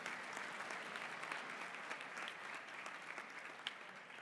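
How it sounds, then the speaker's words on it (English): Steady applause from students at a school assembly, a dense, even wash of clapping throughout at moderate distance, fairly soft overall with no talk over it. "You all need a really good round of applause."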